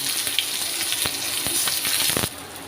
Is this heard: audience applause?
no